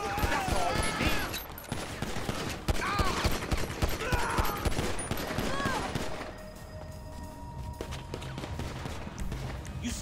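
Gunfire from Grand Theft Auto V, with dense bursts of shots and chaotic game noise over a steady music bed. Voices talk through the first six seconds, then the mix drops to a quieter, sustained background.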